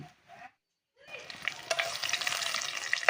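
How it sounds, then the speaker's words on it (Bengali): Whole dry red chillies, bay leaf, cinnamon and cloves hit hot oil for tempering and sizzle sharply and steadily after a brief quiet moment, with crackles and pops rising in a busy, close frying hiss. "এবার আমি ফোড়নে দেব শুকনো লঙ্কা 2টা, তেজপাতা, দারচিনি আর কয়েকটা লং"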